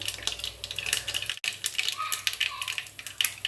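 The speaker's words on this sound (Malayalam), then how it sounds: "കടുക് പൊട്ടി കഴിയുമ്പോൾ" Rapid crackling and sizzling pops of mustard seeds in hot coconut oil, dense and continuous, with a brief pause partway through.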